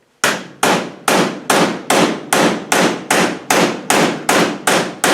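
Loud, rapid metal taps in an even rhythm, a dozen sharp hammer-like strikes on a shoulder bolt driving a tight Rover V8 hydraulic lifter out, close up, each with a brief ringing decay.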